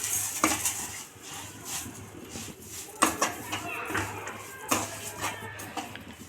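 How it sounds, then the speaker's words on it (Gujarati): Bottle gourd halwa with sugar being stirred in a pot, with irregular metallic scrapes and sharp clinks of a spoon against the pan, spaced a second or so apart under a quiet kitchen background with some talking. "હવે તેને આપણે સરખી રીતે ચોળવશું"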